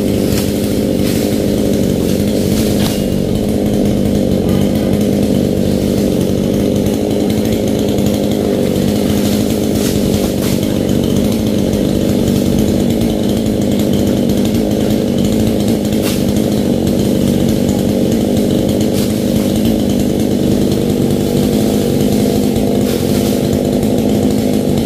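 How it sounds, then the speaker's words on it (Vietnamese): A saw cuts fresh green coconut palm fronds, its engine droning loud and steady at close range without a break, and no voices are heard. "cưa mấy cái tàu tươi."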